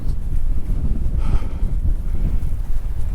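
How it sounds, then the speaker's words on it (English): Heavy coastal wind at Anvil Point on the South West Coast Path buffets the microphone with a constant low roaring rumble, gusting unevenly throughout with no speech. "it's very windy, so I don't know how the audio is going to work on this"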